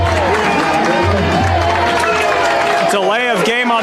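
Crowd at a varsity high school football game chanting for the defense, a loud, steady roar of many voices mixed with clapping, with an announcer-like voice and whistle-like tones rising near the end.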